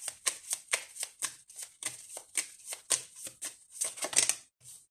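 A tarot deck is shuffled by hand in a quick, irregular riffle of papery slaps and flutters, close and fairly soft, with no talking.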